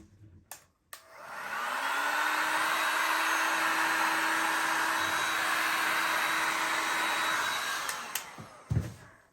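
A blow dryer or heat gun blows over wet resin art, switching on to a steady, loud, close whooshing roar that holds for about seven seconds before cutting off, with small clicks at either end and no talk.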